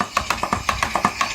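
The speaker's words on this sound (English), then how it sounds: "They click, click, click all the time." Antique Swift boiler feed pump, steam-driven, clicking steadily as it runs: a close, regular train of about ten sharp clicks in under a second and a half, with no voices.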